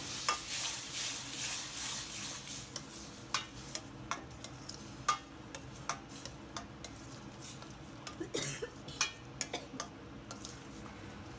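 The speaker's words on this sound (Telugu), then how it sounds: "మనం ముందుగా స్మాష్ చేసుకున్న ఈ వెజిటబుల్ మిశ్రమాన్ని ఈ విధంగా వేసేసుకుని ఒక్కసారి బాగా కలుపుకుందాము" A mashed vegetable mixture for pav bhaji is stirred in a pan with soft sizzling underneath, marked by repeated light clicks and taps of a utensil against the pan, fairly quiet and close.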